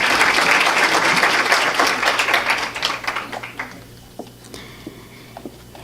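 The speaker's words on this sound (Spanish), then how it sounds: "Un aplauso muy caluroso a nuestras panelistas y, por supuesto, a nuestro moderador." An audience at the opening ceremony of an Amazon journalism and climate change summit applauds panelists and a moderator, with loud dense clapping that thins out and fades into a few last scattered claps.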